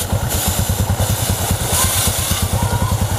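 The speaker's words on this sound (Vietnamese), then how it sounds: "nổ máy vào số để cho nó quay" A Honda Wave RS motorcycle engine runs in gear with the rear wheel and chain turning, a close, steady, rapid putter with faint mechanical clatter on top and no one speaking.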